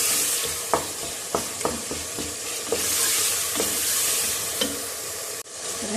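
Tomatoes and spices stirred and frying in a pot for a Hindi-style aloo gosht, with a steady sizzle throughout and scattered clicks and scrapes of the spoon, close and moderately loud, with no talking.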